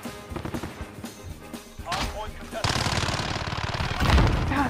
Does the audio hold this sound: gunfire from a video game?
yes